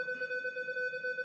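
Steady electronic tone from a metal detector sounding off on a lead target, a sustained two-pitch ring held evenly through the moment at moderate, fairly quiet level with no talking.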